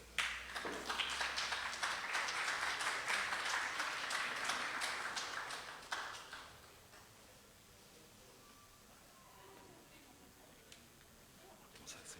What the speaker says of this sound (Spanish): Recibamos con un fuerte aplauso al doctor Santiago Armijos.